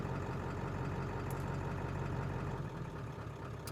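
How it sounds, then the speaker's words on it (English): An old Ford truck idles at a lowered whisper-mode speed, giving a quiet, steady low rumble close by with no talking. "I got a whisper mode on this truck, which just drops idle, so then it makes it more quiet"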